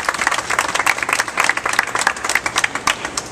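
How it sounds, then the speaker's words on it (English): Applause breaks out at an outdoor community event launching a white roof project on the Lower East Side, a moderate crowd clapping steadily and unevenly for a few seconds with no talking over it. "give them a big round of applause."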